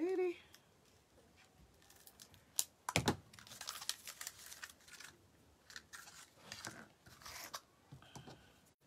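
Scissors snip through yarn for a cross board wreath, giving a handful of sharp, close clicks and crisp cuts amid light rustling of the strands, with a brief voice near the start.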